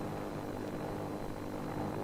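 Propeller warplanes fly overhead in 1951 documentary footage, a dense, continuous engine drone with a rough low rumble holding steady throughout, with no speech.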